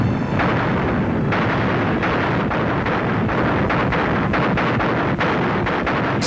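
A massive artillery barrage of thousands of guns supported by Katyusha rocket launchers, heard as a dense continuous roar of booms and rumbling blasts with sharper bursts punching through the din.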